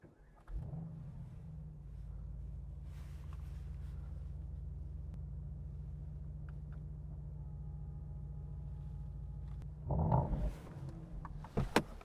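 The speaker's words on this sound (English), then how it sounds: "that really important option is the vehicle lift system" Mercedes-AMG GT vehicle lift system raising the car's front: a steady low electric-hydraulic hum runs for about nine seconds at close range, ending with a brief clunk and small mechanical knocks.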